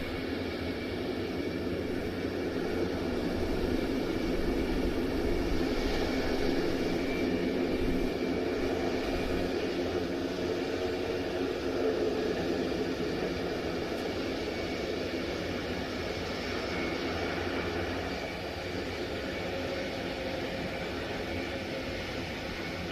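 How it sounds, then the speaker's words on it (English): At an air show on the ground, a propeller aircraft reverses down the runway with a loud, sustained engine roar and a steady droning hum that holds nearly constant throughout, with no talking. "with the aircraft on the ground and reversing down the runway"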